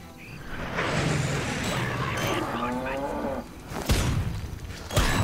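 A concrete donkey weapon in the Worms Clan Wars video game, heard as a loud cartoon donkey bray followed by heavy crashing thuds as it slams down, with game sound effects around it.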